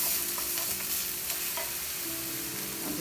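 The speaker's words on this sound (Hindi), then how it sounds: "अब इसमें मैं शामिल कर रही हूँ लहसुन।" Garlic sizzling in a hot pan for crispy okra, with a steady frying hiss and soft intermittent scrapes of stirring close by, no voices.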